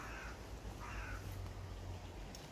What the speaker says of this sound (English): See they have the crow in the tree there.